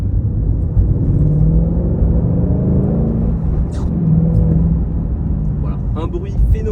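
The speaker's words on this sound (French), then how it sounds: "on va faire une petite accélération. Je passe la seconde quand même." A Ford Mustang GT with a 450 hp V8 and manual gearbox accelerating in second gear from inside the cabin, a loud deep engine rumble rising in pitch with a few clicks near the end.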